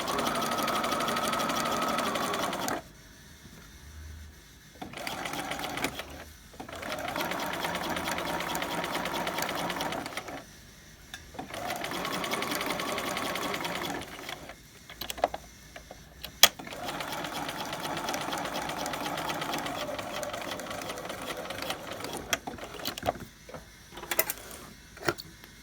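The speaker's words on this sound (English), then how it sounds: "This is just a machine baste" A sewing machine machine-basting layers of a raglan collar runs in several bursts of steady whirring stitches, separated by short quiet pauses and light clicks.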